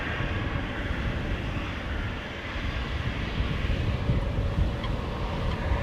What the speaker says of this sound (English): we have an Embraer 190 KLM flight 1933 to Geneva coming this